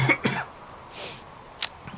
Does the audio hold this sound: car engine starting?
no